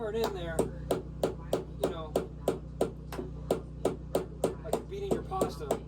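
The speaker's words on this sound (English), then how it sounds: "You gotta really hammer it in there." Close, sharp hammer blows drive flooring into place in an RV bedroom, about three strikes a second in a steady run, with a voice speaking over the first and last moments.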